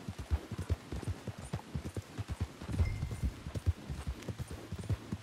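Steady rhythmic hoofbeats of a galloping horse in Red Dead Redemption 2 Online, clip-clopping quickly at moderate volume with a low hum underneath.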